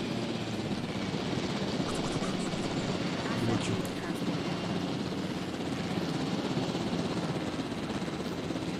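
Helicopter in the video game Jurassic World Evolution, a continuous whirring rotor and engine drone heard close and steady throughout, with someone talking over it.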